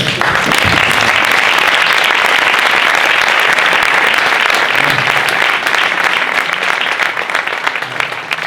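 Sustained ovation from an audience at a tribute to a retired professor hosted by an archive friends' association, loud and continuous clapping that thins slightly toward the end.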